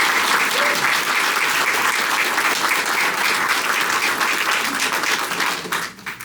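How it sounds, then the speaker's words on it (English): Sustained applause from an audience greeting the evening's host at a community event on race, rights and justice, steady and full for about six seconds before tapering off near the end. "a warm round of applause"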